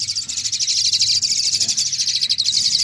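Leucistic Asian pied starlings, clean white birds kept as several breeding pairs, call in a steady, dense stream of high rapid chirps and trills. The chorus is close and continuous, with no voices over it.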